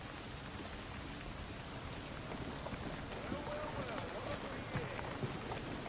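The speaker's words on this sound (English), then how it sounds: "I want to just hone in on what this game looks like when it's raining" Steady rain pours in an open-world video game, a dense continuous hiss of drops on surfaces holding at an even level, with a narrator's voice talking over it throughout.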